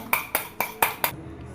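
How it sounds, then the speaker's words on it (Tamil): A fork or whisk strikes a bowl while an egg is beaten, giving five quick, evenly spaced metallic clinks up close, with no talking. "இப்போ நெக்ஸ்ட்டு ஒரு முட்டை எடுத்து அதை அடிச்சுக்கலாம்."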